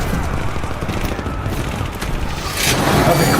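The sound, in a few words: machine gun fire in an action film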